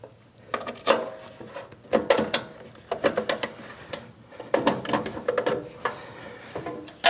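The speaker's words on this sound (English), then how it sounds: "Now let's get some washers and some slightly longer screws and mount the VFD in here." Washers and screws clatter and click as they are handled and fitted while a VFD is mounted inside an electronics enclosure, giving irregular sharp metallic taps and scraping bursts close by with no speech.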